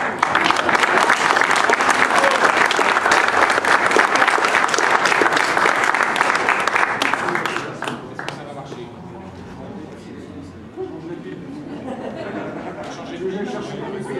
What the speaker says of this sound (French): je voudrais vraiment remercier et qu'on l'applaudisse beaucoup plus que cela, Latifa Bezaouia Kotri